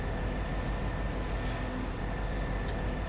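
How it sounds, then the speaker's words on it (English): Old classic steam locomotive running in Garry's Mod, a steady rumbling rail roar with constant high whining tones, continuous and fairly loud throughout. "was going on a small trip on a classic train, like one of those old locomotives"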